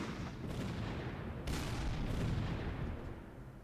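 Artillery fire in the Panzer Corps wargame, a dense continuous rumble of booming shots and explosions with a few sharper blasts standing out, loud and steady throughout with no voices.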